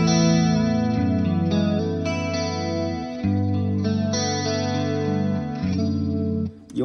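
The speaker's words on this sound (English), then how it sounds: "right away I can switch to my chorus sound" Electric guitar through a chorus effect on a Hotone Ampero II Stage multi-effects unit, strumming shimmering, sustained chords that swirl continuously at a steady, fairly loud level.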